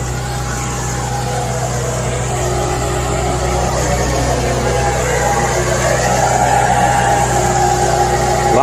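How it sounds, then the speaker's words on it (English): A skid steer runs at a steady, droning rev while lifting a 1955 Chevy Nomad parts car body, its continuous low engine hum mixed with wind noise outdoors. "A lot of wind, a lot of noise from the skid steer."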